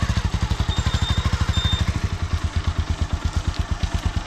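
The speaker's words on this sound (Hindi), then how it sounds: "तो जाने वाले हैं भैया के साथ बाइक से, ये भैया की बाइक है," A motorbike in Mon district, Nagaland, runs close by with a steady, rapid thumping idle that continues without a break and with no talking.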